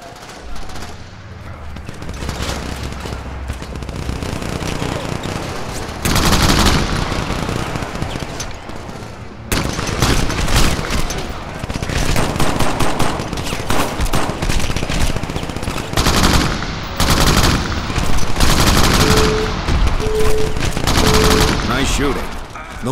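Dense gunfire fills a Crackdown game firefight, with rapid machine-gun bursts and overlapping shots running almost continuously at close range and only brief lulls.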